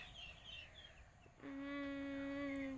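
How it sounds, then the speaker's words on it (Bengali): Chinese geese kept as pets, one sounding a loud, sustained nasal honking call close by after a quiet stretch of faint rustling and distant bird chirps. "চীন হাঁস বলে দাদাভাই খুব শখ করে কিনেছে"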